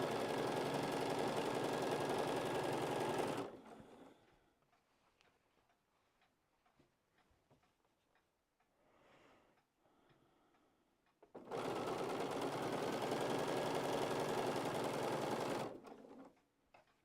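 A sewing machine stitching fabric in a home sewing room, running in two loud, steady bursts of rapid mechanical ticking separated by a quiet stretch with faint handling noises.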